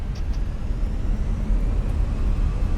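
Aircraft engines spooling up for takeoff in Microsoft Flight Simulator, a steady loud low roar and rumble of jet engines building thrust, continuous with no talk.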